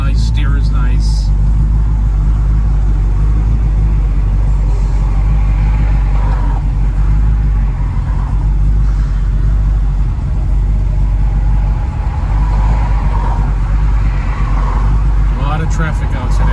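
A 1970 Chevrolet Chevelle drives along a road with a steady mid-pitched engine drone and road rumble throughout, while a person talks over it.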